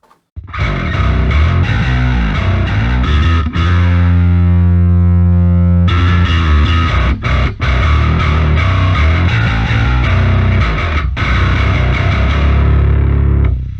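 Loud, growling bass guitar with heavy distortion churns through riffs and a sustained held note, thick and fuzzy in the low end throughout.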